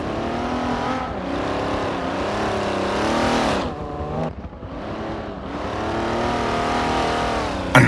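A race car drifting through a course at Daytona during a World Race Series event, its loud engine rising and falling in pitch through continuous revving passes, with a brief dip mid-way before the roar returns.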